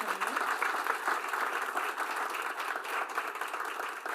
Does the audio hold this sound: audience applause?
yes